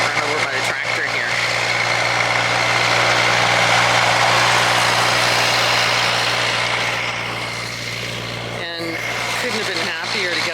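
A tractor engine idles and rumbles steadily nearby on a farm plot with newly planted trees, a continuous low drone that eases slightly toward the end while someone talks over it.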